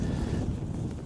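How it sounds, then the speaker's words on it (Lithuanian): Wind blows across an open farm field, a steady close rushing buffet of gusts hitting the microphone with no speech. "Vėjas pučia, tai nejuokingai šiandien."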